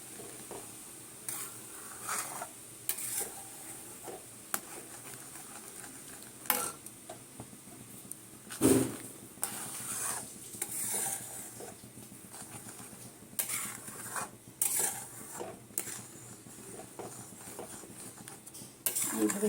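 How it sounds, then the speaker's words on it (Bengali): Semolina halwa with milk and ghee stirred continuously in a pan, giving irregular scraping and knocking strokes of the spoon over a soft bubbling sizzle, close by, with a sharper clatter midway and no talking. "এইভাবে কন্টিনিউ নাড়তে থাকবো"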